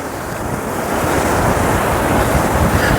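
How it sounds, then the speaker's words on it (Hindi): Sea waves crash against the carved rocks at Tanah Lot in Bali, making a loud, continuous roaring surf mixed with heavy wind buffeting the microphone. "पानी की जो लहरें आती हैं ना, वो लहरें इन पे आगे टकराती हैं।"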